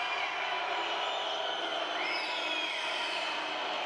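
An arena crowd at a KK Mornar v Cibona Basketball Champions League game reacting to a referee's call, a steady, distant roar of many voices with faint whistles cutting through.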